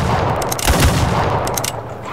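Gunfire aimed at a bear in a video game: a quick burst of several sharp shots over a dense, noisy game soundscape, loud and close.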